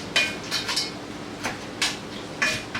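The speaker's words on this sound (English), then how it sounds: "We're going to stir it in" Green beans stirred into keto shepherd's pie filling, with a few sharp clinks of a utensil against a pot at irregular intervals over a quiet kitchen background.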